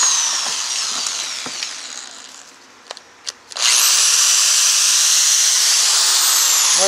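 A 4.5 amp electric drill powered from a solar panel battery setup whirs steadily and loudly from about 3.7 seconds onward, after a quieter stretch of background hiss with a few brief clicks.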